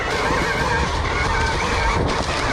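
Dirt bike engine pulling up a hill, a busy, rough motor note that stays loud and steady through the short burst with no talk.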